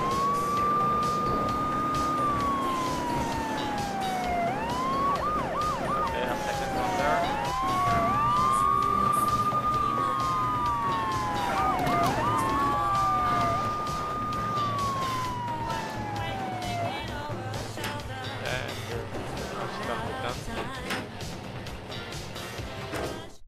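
A police car siren in Grand Theft Auto 3 wails in repeated rising and falling sweeps, loud and steady for most of the stretch before it slowly fades, with busy game traffic noise underneath.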